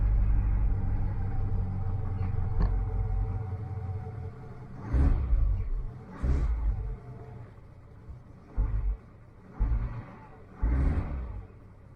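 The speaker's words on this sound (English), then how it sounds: "Seems to like quite a lot of choke on these chilly mornings." Car engine idling after a cold start with the choke pulled on a chilly morning, a close steady rumble broken by several short revs that swell and fall back at irregular intervals.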